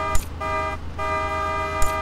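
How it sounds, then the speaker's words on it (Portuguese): A tractor in GTA San Andreas gives sustained, horn-like tonal blasts that break off briefly and resume, with short broadband bursts near the start and end. "Vamos ver o tratorzinho aqui."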